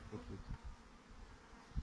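Agitated honeybee swarm being collected, a dense buzzing drone close by with low rustling and handling bumps throughout.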